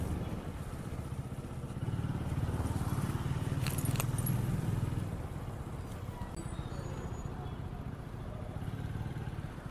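Heavy Chennai road traffic heard from a motorcycle on a late office commute: a steady rumble of engines and passing vehicles swells in the middle, with light clattering over the moderate din.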